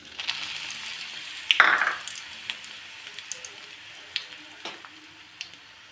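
Dried red chillies dropped into hot oil for gongura dal (sour gongura leaf lentil curry) burst into a loud sizzle that settles into steady frying with small crackles and pops, close up and without speech.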